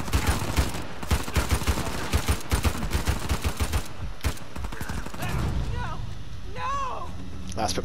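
Rapid gunfire fills an Uncharted 4 shootout on crushing difficulty, a steady stream of close shots for about four seconds, then a rumbling lull with distant shouts and a voice talking.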